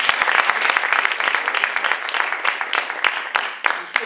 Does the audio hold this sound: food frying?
no